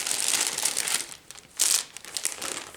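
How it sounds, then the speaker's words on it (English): Plastic packaging crinkles in bursts near the microphone while someone sorts small amounts of coloured wool for cross-stitch finishing, with a louder crunchy flurry midway and no talking. "Pardon my crinkles just for a sec."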